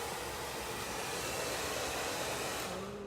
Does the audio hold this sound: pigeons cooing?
no